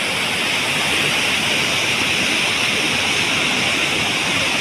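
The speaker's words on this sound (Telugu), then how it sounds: "ఈ ప్రాజెక్ట్ కాలువ కింద నుంచి వస్తున్నాయి నీళ్ళు" Steady, loud roar of the Kinnerasani river rushing from twelve open dam gates, a continuous broadband wash with no pauses, close by and filling the whole scene.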